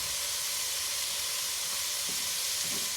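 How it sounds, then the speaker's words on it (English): Carrots tipped into a hot pan for a simple Bolognese sauce, giving a steady, broad sizzle and hiss that holds evenly throughout, with no voices. "We can also add at this stage our carrots"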